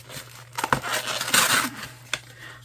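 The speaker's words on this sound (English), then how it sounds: "So excuse the noise as I open all of this up." A planning kit subscription package is opened and unwrapped up close, with crinkling plastic and paper rustles, a few sharp clicks and taps, fairly quiet and irregular.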